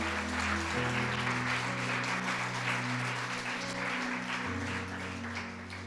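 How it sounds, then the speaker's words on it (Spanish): Church congregation claps steadily in a soft, continuous patter, with sustained keyboard or organ chords playing underneath, and the applause fades slightly toward the end. "Dale un aplauso al Señor."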